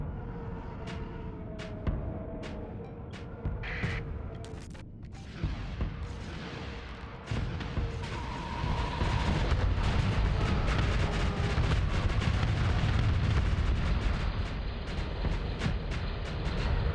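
Rapid weapon fire from a heavily armed ship in the space game Starsector, modded with Star Wars content, builds into a dense, continuous barrage of booms and crackling shots, with no speech.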